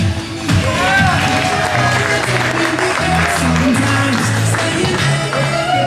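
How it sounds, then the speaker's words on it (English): Continuous applause and cheering from a comedy club audience greeting comedian Bob Blafkin, a dense steady wash of clapping with voices calling out over it. "how about a big round of applause? Put your hands together for the very funny Bob Blafkin"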